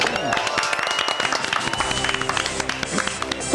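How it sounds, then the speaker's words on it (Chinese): A studio audience claps and cheers on a cooking and variety show, a steady patter of hands running the whole time beneath talk and background music. "掌声鼓励"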